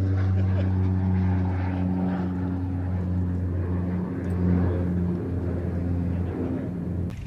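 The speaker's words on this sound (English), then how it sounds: "pilot of the OV-10 Bronco with the Bronco demo team" An OV-10 Bronco twin-propeller aircraft at the Midlands Air Festival drones with a steady, loud, low engine hum, while a voice talks over it.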